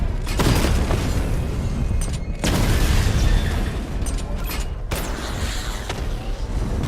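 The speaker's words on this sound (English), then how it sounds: "Destroy targets to charge up weapon energy and activate missile barrage" Deep booming blasts from a Batmobile missile barrage in Batman: Arkham Knight, with three heavy explosive bursts spaced a couple of seconds apart, each followed by rumbling, mechanical rattle and sustained roar.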